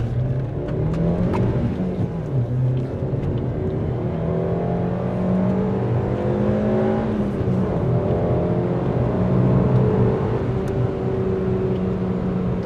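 A car drives steadily along a road behind two trucks, its engine and road noise forming a constant close drone with shifting engine tones and no talk.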